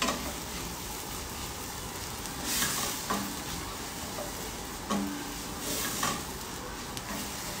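Food fries with a steady close sizzle in a pan while a utensil stirs it, adding occasional scrapes and light clinks against the metal.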